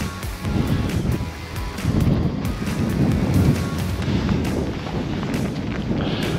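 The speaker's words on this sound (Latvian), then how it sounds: "Te šobrīd ir vienkārši orkāns, vējš ir tāds, ka no kājām pūš nost" Strong gusting wind buffets the microphone in heavy low rumbles and bursts, with no voices.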